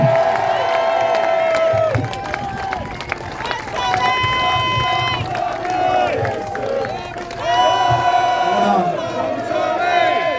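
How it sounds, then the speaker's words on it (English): Rally crowd cheering and clapping for a speaker outdoors, loud shouts and whistles rising and falling over scattered applause, with voices and chanting mixed in. "Give it up for Tommy Robinson"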